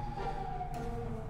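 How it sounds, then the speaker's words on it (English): A siren wails faintly in the distance as a steady, thin tone that holds throughout the short moment. "Sorry for that siren in the background."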